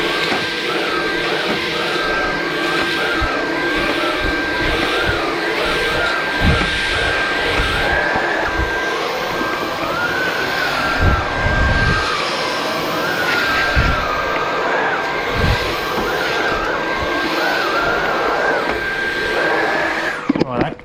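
Dyson V11 cordless stick vacuum running continuously with a loud steady whine and airflow roar, picking up wood debris from the floor, with a few brief thumps and someone speaking faintly at times.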